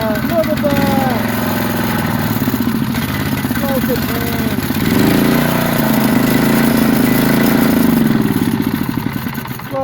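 A small Briggs and Stratton engine, recently fixed after a no-spark fault, runs steadily and loudly at close range with an uneven idling putter, while voices talk over it throughout.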